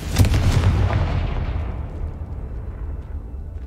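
A Confringo fire spell blast in Hogwarts Legacy erupts as a single heavy booming explosion with deep low rumble that fades away over a few seconds.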